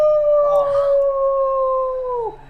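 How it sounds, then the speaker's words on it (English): A long, loud wolf-like howl rings out alone for a tabletop fantasy RPG session, holding a steady tone for over two seconds before sliding down and fading at the end. "out from the door, you hear a howl"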